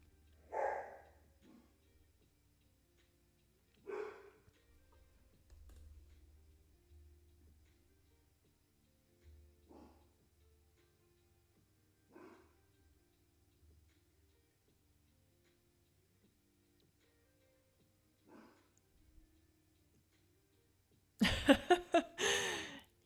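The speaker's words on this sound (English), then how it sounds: "You guys hear my dog in the background?" A pet dog barks several times at a distance after the doorbell rings, short separate outbursts spread through the stretch with quiet gaps between them, ending in a louder, denser burst of noise.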